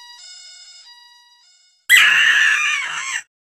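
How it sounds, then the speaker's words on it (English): One loud, shrill scream bursts in after a quiet stretch of thin electronic tones and holds for about a second and a half before cutting off sharply. "Why are you screaming?"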